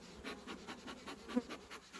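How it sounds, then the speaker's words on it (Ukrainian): Honeybees in a hive box during an autumn colony check hum with a low, faint, continuous buzz that pulses slightly, with one brief small tap partway through. "Так, тут у нас в корпусі знаходиться зовсім мало бджоли."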